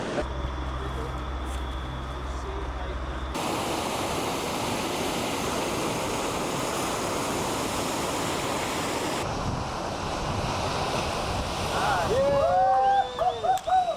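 Waves breaking in an artificial surf pool, a loud continuous rushing wash of water that swells and shifts over several seconds, with a faint voice or shout near the end.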